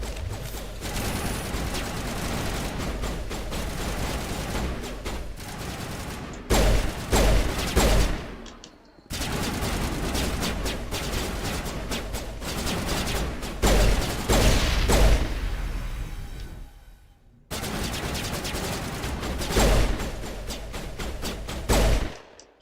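Pistol gunfire in the video game Mass Effect rattles in dense, loud bursts, nearly continuous shooting broken by two short pauses, with no talking.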